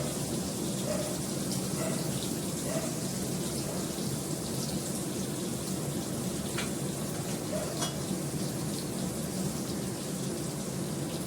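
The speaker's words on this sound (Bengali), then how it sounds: "পটলটা ভাজা হোক," Pointed gourd frying in oil in a covered pan over a gas flame, a dense steady crackling sizzle held close and even throughout, with faint pops and no voices.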